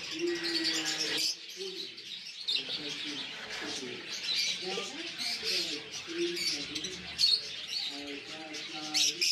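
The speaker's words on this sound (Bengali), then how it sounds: "এখানেও আছে একজোড়া ইউরোপিয়ান পার্ল ফিঞ্চ, নন ক্রেস্টেড।" A pair of non-crested European pearl finches and other small finches in an aviary give busy, overlapping high chirps and short calls, fairly close and continuous throughout.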